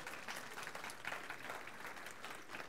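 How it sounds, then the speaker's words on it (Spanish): A church congregation applauds, producing a faint, steady wash of many hands clapping that continues evenly through the short stretch with no talk over it. "le vamos a dar un aplauso a todos los carnalotes"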